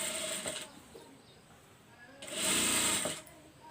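Sewing machine stitching a neck strip onto a blouse, heard close in two short bursts of rapid mechanical chatter with a quieter pause between them.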